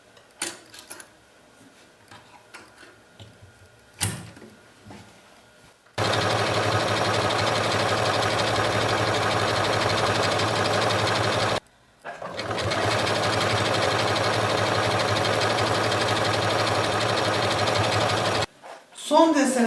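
Janome MC 6700P electronic sewing machine running steadily as it stitches a decorative picot pattern, a loud continuous mechanical whir broken by one brief pause and ending abruptly, with quiet handling noises before it starts.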